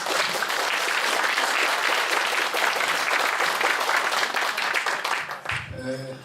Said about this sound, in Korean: 김동영 수석회장님을 큰 박수로 맞아주시기 바랍니다